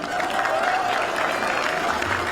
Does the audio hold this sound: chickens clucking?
no